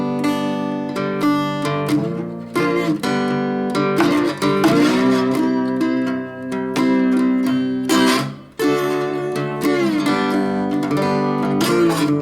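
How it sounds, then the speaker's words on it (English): A vintage Stella H929 acoustic guitar, with a tone between a dobro and a resonator, played bluesy with a slide: loud, sustained, wavering notes and chords with brief pauses, close and without voices. "So I also like to play it more bluesy with a slide."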